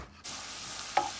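Onions cooking in a little coconut oil for a plantain and salt fish stew give a steady soft sizzle after a brief quiet start, with one small clink of a utensil near the end.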